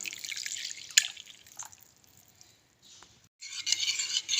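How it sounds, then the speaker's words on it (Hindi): A cup of water is poured into a bowl of spices such as red chili powder and salt, giving a close splashing pour that pauses with a few drips, then resumes briefly. "1 कप पानी ऐड करेंगे।"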